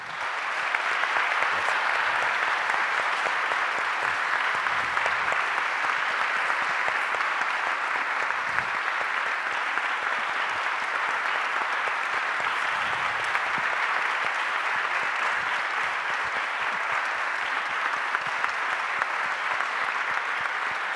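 Sustained theatre audience applause after a stage performance, a dense steady wash of clapping that holds at an even, full level throughout with no voices standing out.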